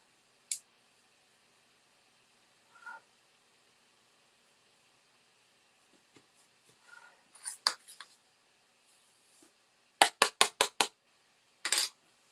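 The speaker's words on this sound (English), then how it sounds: "Now I'm going to be cutting this out." Scissors cut through a handmade holiday card: a few scattered snips close by, then a quick run of four crisp cuts and one last snip, quiet and with no talking.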